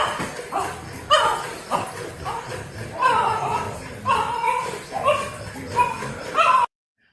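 Several dogs bark, yip and whimper in short agitated bursts around a house, upset by a robot; the yelps come close and fairly loud, ending abruptly.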